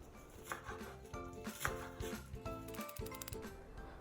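A knife chops rapidly on a cutting board, with quick uneven taps and rustling of purslane leaves, close and fairly quiet with no talking.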